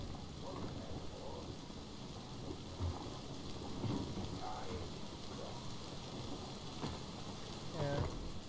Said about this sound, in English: It's a little annoying with the rain